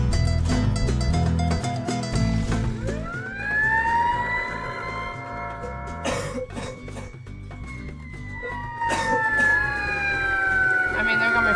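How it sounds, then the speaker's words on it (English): An emergency vehicle siren switched on, wailing in rising and falling sweeps over a low engine rumble, loud and close, with a few short coughs or throat clears in between. "we better turn on a siren so these cops know"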